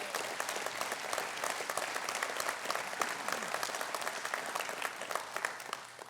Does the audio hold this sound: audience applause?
yes